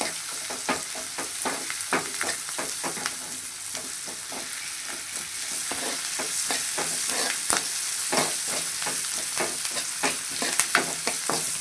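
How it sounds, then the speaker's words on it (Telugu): Amaranthus greens fry with ginger garlic paste in a pan, a constant close sizzle broken by frequent scraping, clinking stirs of a spoon throughout. "జింజర్ గార్లిక్ పేస్ట్ వేస్తున్నాను"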